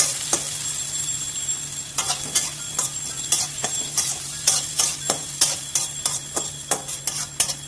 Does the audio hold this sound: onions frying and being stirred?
yes